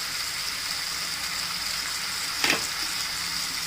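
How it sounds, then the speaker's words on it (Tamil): Chettinad chicken gravy fries and is stirred in a pan over high flame. A steady close sizzle runs throughout, with one brief louder scrape of stirring midway. "ஹை ஃப்ளேம்லேயே வச்சுட்டு நல்லா கிளறி விடுங்க"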